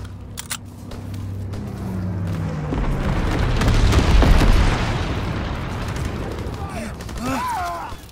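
An incendiary bomb dropped by a low-altitude bomber in Call of Duty: WWII, a swelling explosive roar that builds, peaks and fades, with radio voices at the start and end.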